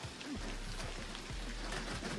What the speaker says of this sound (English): That's when the rain started really hard.